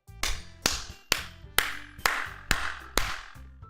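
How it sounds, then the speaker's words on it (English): Applause sound effect in the Doki Doki Literature Club video game, heard as about eight evenly spaced, sharp claps over a soft tonal backdrop. "We applaud."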